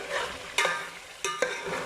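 Meat going into a hot pan with oil, landing in two or three sharp bursts before settling into a steady sizzle, with occasional stirring and scraping against the pan.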